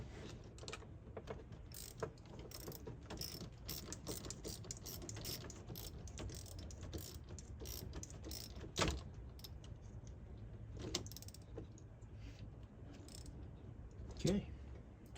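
A ratchet tightens a bolt during an LED light install on a Ford Ranger, with quiet, close clicking pawl strokes in uneven bursts under a low background hum.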